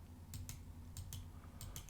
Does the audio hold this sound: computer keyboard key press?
yes